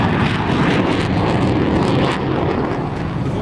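Steady, heavy broadband roar of a large bomber aircraft such as a Russian Tu-95 or Chinese H-6 passing overhead, loud and continuous with no voices.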